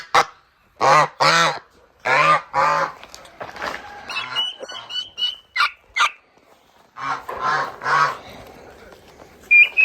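A goose honks repeatedly in loud, close bursts, its calls coming in pairs and clusters separated by short pauses, with a few softer squawks and rustles in between.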